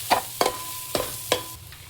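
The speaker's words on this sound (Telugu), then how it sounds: "ఇవన్నీ బాగా ఫ్రై అవ్వి ఆయిల్ పైకి వచ్చే వరకు కుక్ చేసుకోవాలి" Ground masala and spices fry in oil for a vegetable keema haleem, with a constant sizzle broken by four quick scraping stirs against the pan, close up and without talk.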